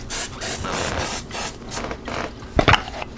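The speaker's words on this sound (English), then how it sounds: "I wanna spray a little bit with some Grill Master spray, just to help the crispiness." Grill Master cooking spray hisses onto a whole chicken in a pressure cooker insert in short bursts, followed by a brief clatter near the end.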